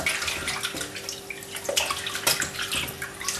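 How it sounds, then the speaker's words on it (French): Tap water runs steadily into salted sausage casings as they are rinsed for Toulouse sausage, a continuous close splashing flow with small gurgles and drips. "On va bien rincer à de l'eau, parce que les boyaux sont conservés dans du sel ou dans de la saumure."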